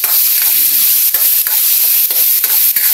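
Shrimp paste (alamang) sautéing in a hot pan, a loud, dense, close hissing sizzle broken by repeated sharp scrapes of a spoon stirring.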